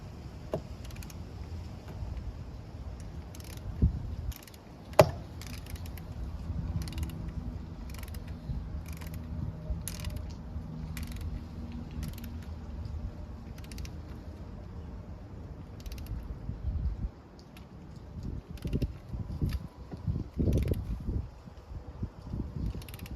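A torque wrench ratchets on the thermostat housing bolts of a Dodge Durango, set to 8 foot-pounds and working from the center out: a string of short, crisp clicks close up, with a couple of louder knocks and some handling noise.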